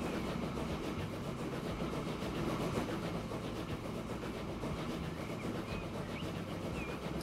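Steady train rumble from the video game Transport Fever 2, an early railway carrying crude oil, rolling on continuously at an even level throughout with faint mechanical texture and no talk.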